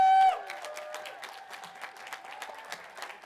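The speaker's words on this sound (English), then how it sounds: "give a huge round of applause to your families, your loved ones, your friends, here to celebrate your great accomplishments" A graduation crowd at College of Alameda claps as a short tone fades out, then scattered applause continues at a moderate level, thinner than a full ovation.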